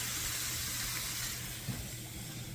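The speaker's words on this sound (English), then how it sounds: "Can you hear that sizzling?" Hot breakfast sausage sizzling in a frying pan, a steady broad hiss with faint crackle running evenly throughout, no talking.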